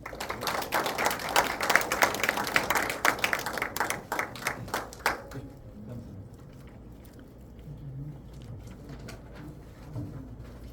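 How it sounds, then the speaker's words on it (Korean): Warm audience applause at a literary seminar welcoming a guest lecturer, dense clapping for about five seconds that stops abruptly, then quiet room sound with faint shuffling. "자, 권주엽 박사님 뜨거운 박수와 함께 모시겠습니다."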